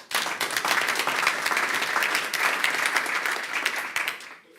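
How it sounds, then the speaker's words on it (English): A meetup audience applauds new delivery-company members in a sustained, even burst of many hands clapping, close and full, before it drops off abruptly. "Please give them an applause."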